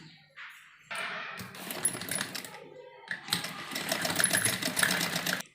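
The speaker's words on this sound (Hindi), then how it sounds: "यहाँ पर हम एक सिलाई लगाएंगे" A sewing machine runs a seam on fabric for a girls' pleated full-sleeve frock, whirring steadily and close after a brief soft start, easing once and then continuing at a moderate level.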